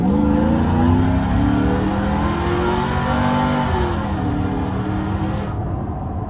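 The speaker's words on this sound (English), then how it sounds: "Let's do another full throttle." Supercharged 2010 Chevrolet Silverado on coil overs accelerating at full throttle, a loud, close engine roar with rising harmonic pitch sweeping through the gears, cutting off abruptly near the end.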